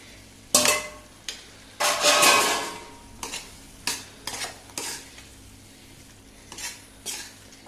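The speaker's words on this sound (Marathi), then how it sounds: "आता उकडलेले चणे घालायचे" Boiled chickpeas tipped into a pan of masala for chole and stirred, giving irregular scraping and clattering bursts of spoon against metal, one longer rustling scrape among shorter knocks, close and fairly quiet with a faint sizzle between.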